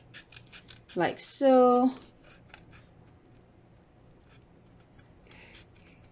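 Scissors cut paper for a bobble-head paper bunny Easter craft, giving a short crisp snip or two close by while a voice speaks softly.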